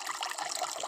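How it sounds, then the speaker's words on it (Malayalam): Water pours briefly over tomatoes and garlic in a cooking pot for boiling: a short, soft splashing trickle under a second long, close and fairly quiet. "കുറച്ച് വെള്ളം ഒഴിച്ചാൽ മതി."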